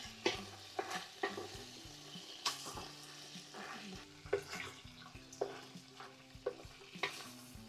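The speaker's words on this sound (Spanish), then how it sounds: "vamos a dejar que se doren con la manteca que nosotros le vamos a poner" Pork ribs frying in plenty of lard in a pot, a steady low sizzle broken by repeated scraping and stirring clatters of a utensil against the pan, close and moderately loud, with no talking.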